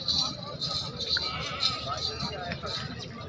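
Goats bleat a few times at a busy goat market where a female goat with two kids is being shown for sale, the calls short and under steady nearby talk and crowd murmur.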